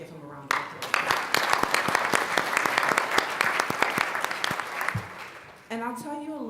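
A conference audience breaks into sustained applause, dense clapping that fades out after several seconds, with a voice speaking at the start and again at the end.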